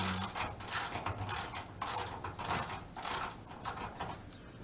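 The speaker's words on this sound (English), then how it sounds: "Keep it real with ratchets." A ratchet wrench turns bolts during a K-member installation, producing a rapid clicking pawl rattle in repeated close bursts of about a second each.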